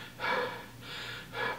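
A voice imitating a movie actress's heavy, loud breathing, giving three drawn-out breaths in a row, close and airy.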